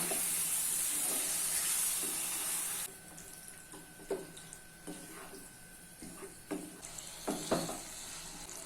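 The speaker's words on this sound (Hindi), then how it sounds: "गैस की फ्लेम को हाई कर लेना है और हाई फ्लेम पे मिक्स कर लेना है।" Marinated mutton sizzles with a strong hiss that drops away, followed by scattered clinks and scrapes as it is stirred in the pan over a high flame.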